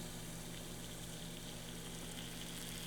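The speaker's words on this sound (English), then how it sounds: "As soon as I notice it's a rolling boil" Water at a rolling boil in a pot on a Trangia camping stove gives a steady, even rushing and bubbling roar with a low hum underneath, close by and unbroken throughout.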